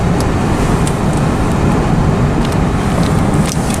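Loud broadband cabin rumble inside a 2007 Honda Pilot V6 on the move, with steady road and tire noise and engine drone filling the back seat. No voices are heard.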